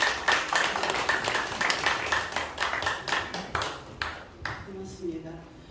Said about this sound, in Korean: 박수를 맞이해 주시죠